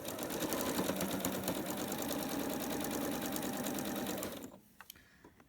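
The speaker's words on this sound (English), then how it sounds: "Sew a few stitches, and then do the same thing on the other 3 or the other 2 sides." Domestic sewing machine stitching a quilt's fabric layers, a steady loud mechanical whir with rapid needle rhythm running for about four seconds, then stopping abruptly into near quiet with a couple of small clicks.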